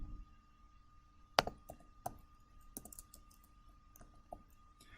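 Typing on a computer keyboard in Microsoft Word, heard as scattered soft key clicks with a sharper tap near the start. Sparse and quiet, with no talking.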